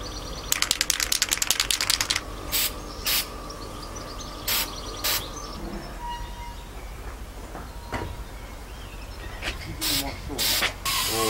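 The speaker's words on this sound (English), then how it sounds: "spray the middle bits with metallic paint" Spray can of metallic paint on a model lighthouse, short hissing bursts between rapid rattling clicks, close with a faint background hum.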